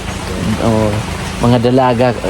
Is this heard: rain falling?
yes